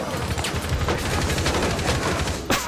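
Gunfire in the tactical shooter Rainbow Six Siege: a continuous, dense crackle of rapid shots and muffled bursts under a constant rumble, loud throughout, with a sharper report near the end and no clear speech.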